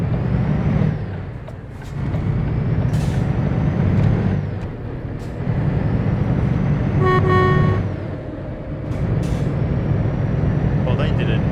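A truck horn sounds in Euro Truck Simulator 2, with short honks over a steady diesel engine drone and road rumble and one sustained tonal blast near the end.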